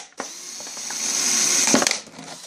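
A power drill whirs steadily for about two seconds, its pitch and bite shifting briefly as it cuts a hole through a plastic container, then winds down.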